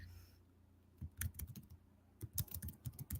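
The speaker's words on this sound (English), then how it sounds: "Sorry, I'm typing in the chat." Soft, rapid typing on a computer keyboard in bursts of clicks with a brief pause between runs, faint and close, typing a chat message during an online fandom show.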